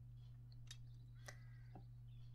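Crows caw a few times in The Dark Eye: Memoria, short harsh calls spaced apart over a steady low game hum.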